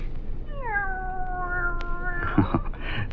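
A cat gives one long, drawn-out meow, fairly close and clear, ending with a brief rustle, in a 1950s–60s radio mystery drama.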